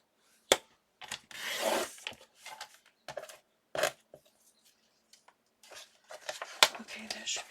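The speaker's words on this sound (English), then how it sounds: "Just going to trim that edge off a little bit more than I wanted" Paper is trimmed along the edge of a handmade junk journal pocket, with short scraping cuts and rustling bursts scattered between pauses, close and fairly quiet.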